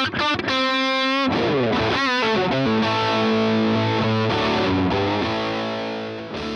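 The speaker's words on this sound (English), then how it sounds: "The straight 6 is a dynamic overdrive that includes a bright switch for a wide range of British rock tones." Electric guitar runs through a Vox Tone Garage Straight 6 dynamic overdrive pedal, producing crunchy British rock chords and bends that sustain loudly and then fade slightly at the end, with no talk.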